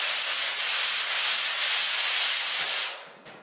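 Soft side of a sanding sponge rubbed over a drywall touch-up, a steady close, rhythmic scrubbing hiss that runs for about three seconds, then stops.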